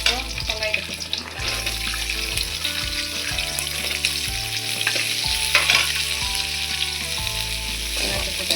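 Chopped onions sizzle steadily in a hot pan for gobi manchurian, a continuous close frying hiss with occasional stirring scrapes, and no talk over it.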